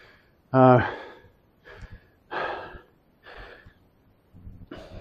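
A 59-year-old man breathes heavily after a dumbbell routine, with a sharp loud gasp followed by several deep, ragged breaths spaced about a second apart, very close.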